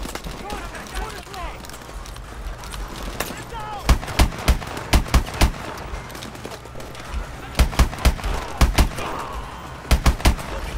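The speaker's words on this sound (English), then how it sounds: "I like the single shotgun." Shotguns fire in the futuristic shooter game Call of Duty: Advanced Warfare, a string of sharp, loud blasts spaced irregularly, some in quick pairs, over background game noise and someone talking.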